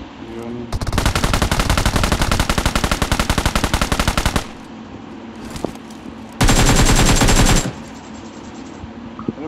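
Rapid automatic gunfire from a video-game gun, one long loud burst of evenly spaced shots, a brief pause with scattered sounds, then a second shorter burst, with faint voices in the gaps.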